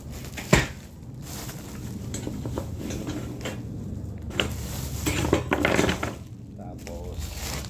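Metal and plastic parts of a dish drainage rack clatter and clink as they are unpacked and handled nearby, with irregular knocks and light rattles while a person talks softly now and then.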